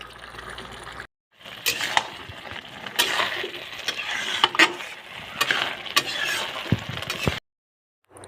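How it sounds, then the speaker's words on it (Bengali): Taro leaves (kochu shak) frying and being stirred in a pan while they release a lot of water, making a steady, close, broadband sizzle with scattered scraping clicks, framed by short silences at the start and end. "এরকম কচু শাক ভাজা করতে একটু বেশি টাইম লাগে"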